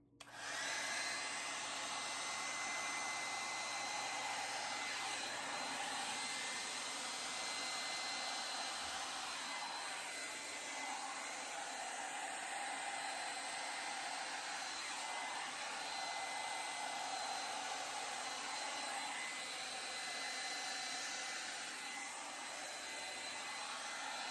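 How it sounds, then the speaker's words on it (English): Steady, even rushing air, like a hair dryer, blows out acrylic pour paint across a canvas, continuous and fairly quiet for the whole stretch with no talking. "I think I'm going to start here and blow into the negative space and move my way out."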